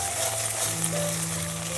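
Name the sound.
frying and stirring ground spice paste for duck curry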